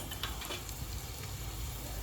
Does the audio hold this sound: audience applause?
no